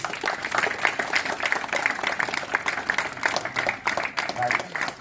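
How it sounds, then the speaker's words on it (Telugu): An audience at a school science celebration claps for students, a dense, steady round of applause from many hands filling the space, with voices mixed in. "క్లాప్స్ గట్టిగా అందరికీ"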